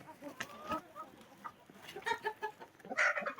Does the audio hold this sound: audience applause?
no